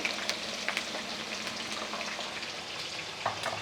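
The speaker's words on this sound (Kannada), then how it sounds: "ಹಸಿಮೆಣ್ಸಿನ್ಕಾಯಿ ಸೇರಿಸ್ತಾ ಇದ್ದೀನಿ ಹಾಗೆ ಬೆಳ್ಳುಳ್ಳಿ" Green chilies and garlic fry in hot oil in a pan, a steady close sizzle running the whole time with small crackling pops scattered through it.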